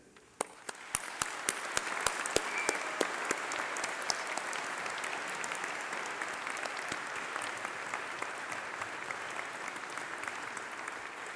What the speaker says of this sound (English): let's have a round of applause for all those special people, your family, your friends, your tutors